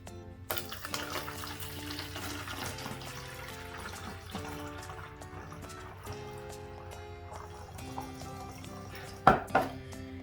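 Water runs steadily into a container for several seconds, with a clatter of dishes and a sharp knock near the end.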